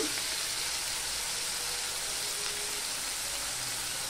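Potatoes go into a hot frying pan for a Bengali small fish curry and sizzle steadily in oil, a constant bright hiss that continues at an even level throughout.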